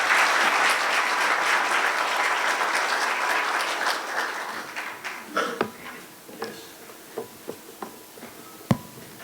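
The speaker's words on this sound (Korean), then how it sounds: "승효상 대표님을 큰 박수로 모시도록 하겠습니다" Audience applause welcoming architect Seung H-sang onstage at a symposium, a dense sustained clapping that thins out into a few scattered, separate claps toward the end.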